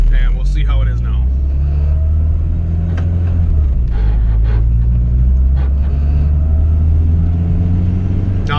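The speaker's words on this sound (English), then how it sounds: "Now this is very light acceleration that we're doing right now" A turbocharged Honda B18C1 engine in a built GSR Civic EG hatchback pulls under very light throttle, giving a steady, close, low droning hum with a faint whine. People talk over it throughout.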